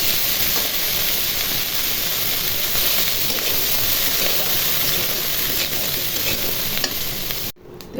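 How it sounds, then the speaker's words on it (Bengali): Washed cauliflower pieces fry in hot oil with a dense, even sizzle that stays loud and close throughout, then drops off abruptly just before the end; no talking. "ফুলকপিগুলো কেটে ধুয়ে পরিষ্কার করে নিয়েছি। এখন তেলের মধ্যে ভেজে নিব।"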